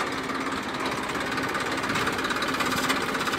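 A heavy 18-quintal tractor ploughing furrows in a sugarcane field, its engine a steady, loud, close-up rumbling drone that runs unbroken throughout with no voices.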